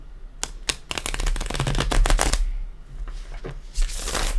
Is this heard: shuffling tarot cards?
yes